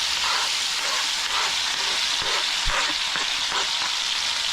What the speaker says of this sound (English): We're dropping in some butter with it, and now we're gonna drop in the veggies.